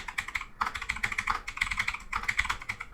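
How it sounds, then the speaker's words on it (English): Rapid typing on a computer keyboard, a dense run of close, crisp key clicks with two short pauses, entering a search for a Google Docs dark mode extension. "simply type dark mode Google Docs"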